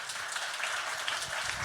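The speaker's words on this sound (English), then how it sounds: "Please, an applause." Audience applause at a film festival Q&A session with director Neo Sora, steady dense clapping from a seated crowd, sustained and even throughout without letting up.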